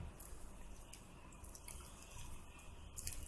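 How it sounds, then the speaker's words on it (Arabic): Warm water, not too hot so the yeast survives, is poured from a vessel into a bowl of pizza dough flour, making a soft, steady trickling and splashing close by, with no talking. "هحط شويه ميه"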